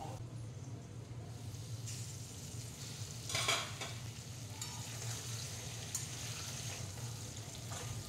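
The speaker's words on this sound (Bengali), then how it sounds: "আলুগুলি ভাজতে সামান্য লবণ দিয়ে দেব, সামান্য হলুদ গুঁড়ো দিয়ে দেব। আলুটা ভাজা হচ্ছে" Potato pieces fry in oil seasoned with salt and turmeric powder, a soft continuous sizzle broken by a few scraping stirs in the pan, with no talk over it.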